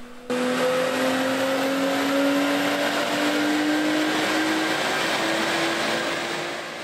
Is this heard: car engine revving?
yes